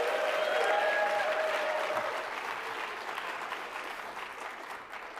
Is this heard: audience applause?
yes